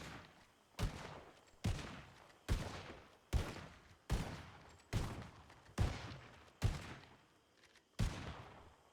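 Repeated gunshots in a Red Dead roleplay game, about ten sharp cracks at a steady interval of roughly one per second, each with a decaying echo tail, fairly loud and with no talking.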